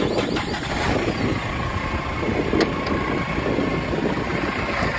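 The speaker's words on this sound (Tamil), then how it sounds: "இப்போ வந்து இன்ஜின் ஸ்டார்ட் பண்ணி காட்ட பாருங்க" A 2007 Mahindra Scorpio SUV engine turns over and settles into a steady rumbling idle, close by, with a brief sharp click midway.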